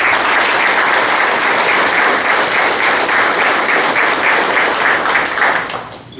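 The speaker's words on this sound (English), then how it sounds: "I want to give them a round of applause as well." Sustained audience applause at a high school athletics hall of fame reception, dense steady clapping filling the room before fading out at the end.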